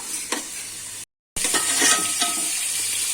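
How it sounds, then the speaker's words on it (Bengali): Onions sizzle and crackle in a hot pan while a spoon stirs and scrapes, with a brief gap of silence partway through. "পেঁয়াজটা বেশ নরম হয়ে আর এগুলো ভাজাও হয়ে যাবে"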